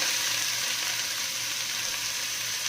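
Minced onions and garlic frying in a pan produce a steady, loud, hissing sizzle that holds evenly with no pauses or speech.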